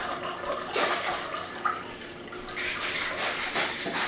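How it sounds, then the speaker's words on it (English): Pineapple juice poured for a cocktail, a close, steady liquid splash and trickle lasting about four seconds, with a faint clink partway through and no speech. "Pour some pineapple juice like so."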